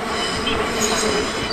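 A train moves through Düsseldorf main station, loud and close, its wheels squealing and grinding against the rails over a continuous metallic roar.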